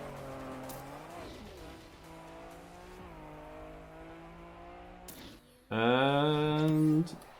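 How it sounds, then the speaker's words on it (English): A rally car engine revs and shifts through gears in a racing video game, a steady droning whine that turns sharply louder and higher near the end, with faint tyre noise beneath. "Oh, rally car."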